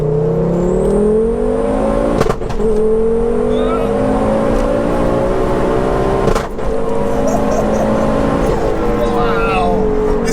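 A 530bhp big-turbo Ford Focus ST swapped to four-wheel drive accelerates hard, its engine note climbing loudly and close, broken by two brief flat-foot shift dips before rising again.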